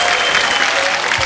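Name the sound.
applause for Saina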